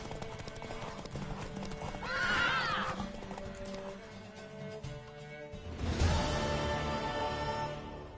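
A horse in The Witcher video game clip-clops steadily and lets out two neighs, a whinny around the middle and another late on, over game music and ambience.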